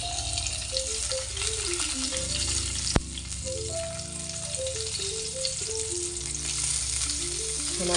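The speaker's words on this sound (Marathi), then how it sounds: "तेल छान तापल्यानंतर आपल्याला आता ह्या मिरच्या ज्या आहेत त्या आपल्याला ह्या ठिकाणी अशा ठेवून टाकून घ्यायच्या आहेत" Stuffed green chillies fry in hot oil in a kadai, giving a dense, steady sizzle with a sharp click near the middle and a patterned background hum, close and without talk.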